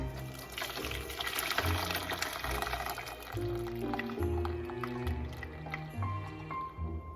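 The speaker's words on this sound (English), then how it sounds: "And I am just going to carefully pour the syrup through the strainer." Syrup for mulled wine (Glühwein) being poured carefully through a fine strainer into a container, giving close, continuous trickling and dripping with small squishy liquid sounds, no talking.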